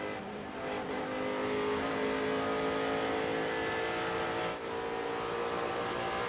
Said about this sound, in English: you'll hear him feather that throttle all day long. On, off, on, off, on, off before he mats it